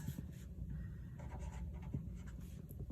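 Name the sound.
writing an equation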